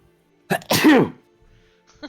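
A single loud sneeze with a sharp intake, close by, followed by quiet and a faint short sound.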